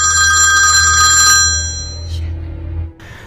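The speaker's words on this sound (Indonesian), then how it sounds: "Telepon ibunya pun berdering" A home telephone rings with a loud, trilling electronic tone for about a second and a half over a low background hum, then falls silent.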